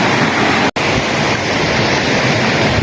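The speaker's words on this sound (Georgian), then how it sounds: "აი მდინარე პარხალით აქ ჩამოედინება უკან." The Parkhali river in the Parkhali valley rushes steadily nearby, a loud, dense broadband roar of flowing water, briefly cut by a split-second gap, with no one speaking.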